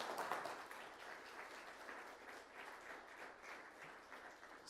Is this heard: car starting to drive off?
no